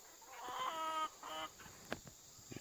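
A few chickens cluck close by in short, quiet bursts, with brief pauses between the calls and a couple of soft knocks near the end.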